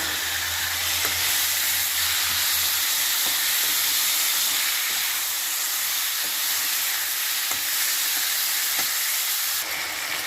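Tomatoes and green chillies fry in a pan for Punjabi-style baingan bharta, making a continuous loud, close sizzle and hiss with a few faint clinks and no talking.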